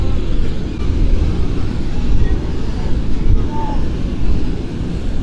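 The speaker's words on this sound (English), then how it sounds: "It's quite breezy down here." Steady wind buffets the microphone on a beach, a continuous low rumble under a nearby voice speaking throughout.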